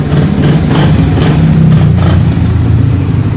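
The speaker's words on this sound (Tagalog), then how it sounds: "ganyan lang yung start ng motor mo sa umaga" Suzuki R150 motorcycle engine running steadily after a morning start, a close, loud, even mechanical rumble with no talking.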